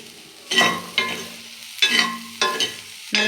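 Banana stem fried rice with coconut being stirred in a pan, a spoon scraping through it in several distinct strokes with a light sizzle underneath, close and fairly loud with no talking.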